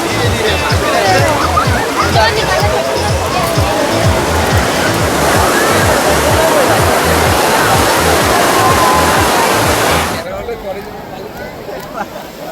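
Loud, continuous roar of surf breaking on the beach at Puri, washing steadily for about ten seconds before suddenly dropping to a quieter background.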